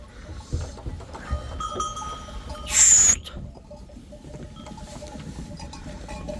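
A sheep flock in a barn after feed is poured, with shuffling and faint bleats, a short bright metallic ring midway, and a low busy background.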